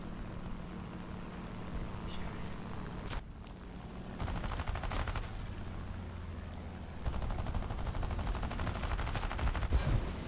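Aircraft machine guns fire in long rattling bursts in War Thunder, rapid and loud, with short gaps between bursts over a steady engine drone, and no voices.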